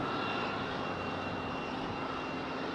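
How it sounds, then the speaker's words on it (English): An Airbus A220 jet taxis at Raleigh-Durham International Airport, its engines a steady, broad, faint roar that holds evenly with no voices over it. "I hear an A220 on the move."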